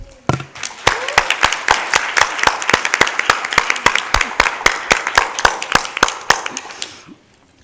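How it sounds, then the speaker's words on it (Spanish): An audience applauds at a panel on International Day against gender violence: a spread of distinct, crisp claps in a steady patter that fades out near the end, with no talking. "Y quisiera un fuerte aplauso por eso."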